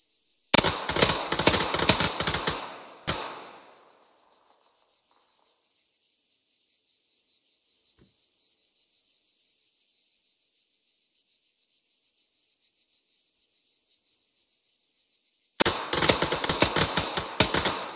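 Rapid pistol shots from an L131A1 General Service Pistol on an Arma 3 shooting range, a quick loud volley of shots, a long near-silent pause, then a second burst of fire, with faint hiss between.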